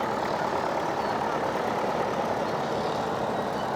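Heavy engines rumble continuously at a steady, dense drone, like several large diesel machines idling close together, from about 250 tractors and crawlers gathered at a show.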